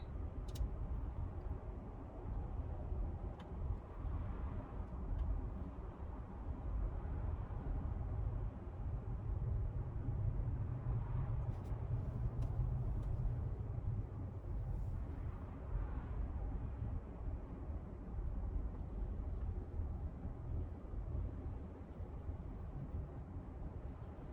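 A car driving north on FDR Drive in New York City, heard from inside as a steady low road and engine rumble with tire noise, rising and falling gently over a long stretch, with no voices.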